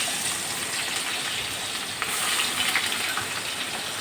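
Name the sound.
onions frying in leftover fish-frying oil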